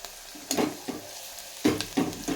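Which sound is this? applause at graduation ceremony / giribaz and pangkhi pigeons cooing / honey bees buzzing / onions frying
onions frying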